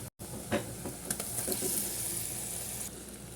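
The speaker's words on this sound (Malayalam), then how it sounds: "നമുക്കിനി ഇതിലേക്ക് മസാല വരട്ടി വെച്ച ബീഫ് ഇട്ട് കൊടുക്കാം" Masala-coated beef added to a hot pan, a hissing sizzle that swells briefly and then settles into a steady frying hiss, with a few soft stirring knocks.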